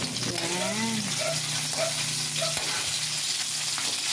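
Pork sizzles and fries in a pan with sautéed onion and garlic for pancit canton, a steady close crackle running throughout with a brief voice-like tone near the start.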